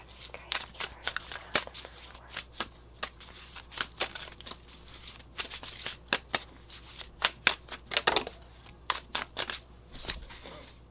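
A deck of Madame Endor's Fortune cards is shuffled by hand at close range, giving a quiet, rapid run of papery riffles and slaps that come in uneven bursts, with no voice over it.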